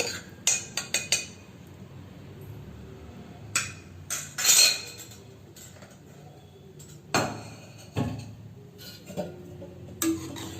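A pressure cooker is rinsed out at a sink, with scattered metallic clinks and knocks of the pot, brief splashes and running water, some sounds sharp and near with quieter gaps between.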